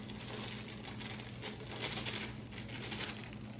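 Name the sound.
cake mix being poured from a bag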